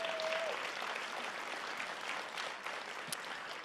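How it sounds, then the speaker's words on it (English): An audience at a charity luncheon applauds steadily, a dense wash of many hands clapping at moderate, slightly distant level, tapering a little toward the end. "Let's give them a round of applause, please."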